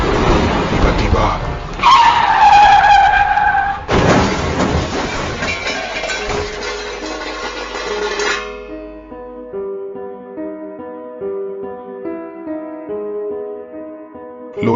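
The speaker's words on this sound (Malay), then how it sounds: "lori aku terbabas" A lorry skids out of control on a road, a loud tire screech and engine noise sweeping over a few seconds, then cutting to music as a voice narrates over it.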